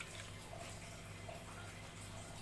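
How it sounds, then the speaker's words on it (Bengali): Water runs and splashes softly and continuously while leafy greens are rinsed, a faint steady trickle with no speech. "এই শাকটা ধোয়া হয়ে গেল"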